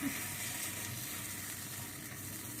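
Aebleskiver batter cooking in a pan, a soft, steady sizzle with a faint bubbling hiss, low and continuous with no talk.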